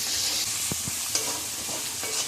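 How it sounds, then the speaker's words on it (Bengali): Tomatoes frying with spices in a pan for chilli chicken, a steady soft sizzle with a few low scraping stirs of a spatula, close and alone with no talk. "আবারও মশলার সাথে এগুলো ভেজে নিচ্ছি ভালো করে, যাতে এই টমেটোর কাঁচা গন্ধটা চলে যায়"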